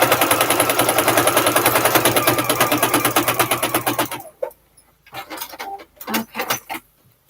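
A sewing machine stitches a fabric zipper bag under the presser foot, a loud rapid steady needle rattle for about four seconds, then stops, followed by quieter handling clicks and fabric shuffling.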